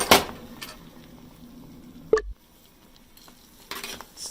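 A spoon stirs a banana and oat mixture in a pot, giving soft scraping swirls with a couple of sharper clanks against the pot's side.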